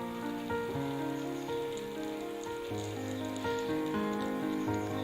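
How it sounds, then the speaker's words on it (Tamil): Unniyappam batter fries in hot coconut oil with a continuous, close, rain-like crackling sizzle, and steady background music plays over it. "இப்போ எண்ணெய் சூடாயிடுச்சு. நம்ம மாவை ஊற்றலாம்."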